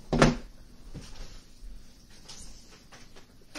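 A door closes with a single sharp thud near the start, followed by quiet room noise and a few faint rustles.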